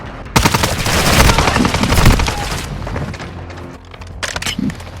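A dragon's breath shotgun firing in the mobile shooter Warzone Mobile during a team deathmatch: loud, rapid back-to-back blasts in a sustained volley, then a pause and a few more shots, with other gunfire and explosions mixed in.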